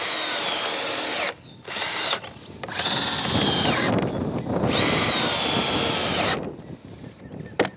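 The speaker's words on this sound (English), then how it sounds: "We'll put that in place, and then we'll put a couple screws in that." A power drill drives 2.5-inch wood screws into wood, whirring loudly in several bursts separated by short pauses, with a rattling ratchet-like grind as each screw bites in.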